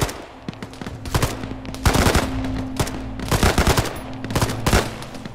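Rapid bursts of automatic gunfire ring out in ArmA 3, sharp repeated shots clustered in rhythmic volleys over a steady low engine-like hum, fairly loud and close throughout with no talking.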